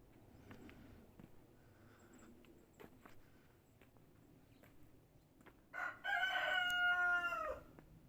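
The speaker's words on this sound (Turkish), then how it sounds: "Sabah galiba bol bol horoz sesi dinliyoruz." After a quiet stretch with faint rustling and footsteps, a rooster crows once, loud and nearby, its call rising and drawn out.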